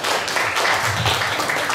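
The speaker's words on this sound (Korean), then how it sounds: "박수를 부탁드리겠습니다." An audience claps and applauds steadily for a couple of seconds, a dense wash of hand claps in a room.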